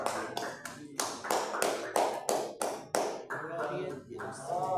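Congregation clapping hands in rhythm during a church worship service, a steady series of sharp, fairly close claps over about five seconds, with some voices mixed in.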